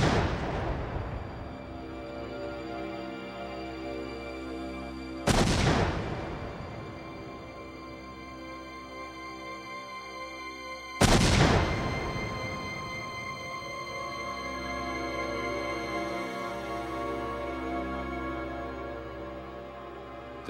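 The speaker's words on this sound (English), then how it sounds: "the LAPD performed a test explosion in the California desert" A pickup truck packed with ANFO and TNT is blown up in a California desert test, with a series of three deep, booming blasts that each roll on into long, low rumbling echoes.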